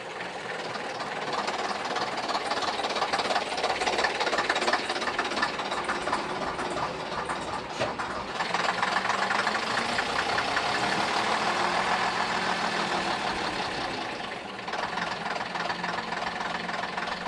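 An AEC Routemaster London bus engine, a diesel running warm after new filters and a rebuilt lift pump, idles with a steady knocking, rumbling rhythm, loud and close throughout with a few brief dips in level.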